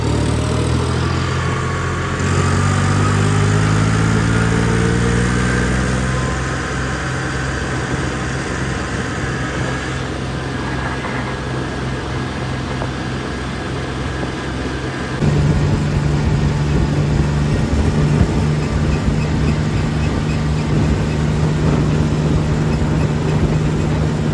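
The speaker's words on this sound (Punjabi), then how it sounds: "ਸਪੀਡ ਚੈੱਕ ਕਰੋ ਟਰੈਕਟਰ ਦੀ ਸਪੀਡ" A John Deere 5105 tractor engine runs continuously nearby, a low steady drone whose pitch shifts as it changes speed, with no talking.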